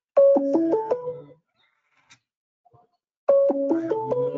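A phone rings with a melodic ringtone during a spoken presentation on COVID-19. A quick descending run of electronic notes plays, falls silent for about two seconds, then repeats clearly in a quiet room.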